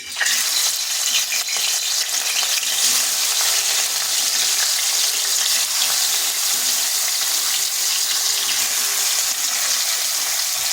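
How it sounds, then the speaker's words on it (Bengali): Fish coated in salt and turmeric fry in hot oil in a kadai, giving a continuous close, loud sizzle and crackle that holds steady throughout with no voices. "ওদিকে মাছগুলো ভাজা হচ্ছে"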